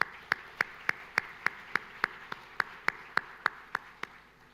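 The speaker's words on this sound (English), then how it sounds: "So please join me in a round of applause." Single pair of hands clapping in a steady, evenly spaced rhythm at a Boeing rebranding event in Malaysia, sharp close claps over a low room hum rather than a full crowd.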